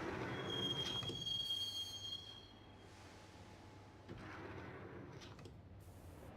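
A subway train ride in the video game Max Payne, with a sustained metallic wheel squeal over a low rolling rumble that eases, then picks up again with clatter, with no one speaking.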